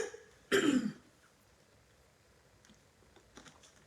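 A woman gives one short, harsh throat-clearing cough, close and loud, followed by near silence and faint rustling.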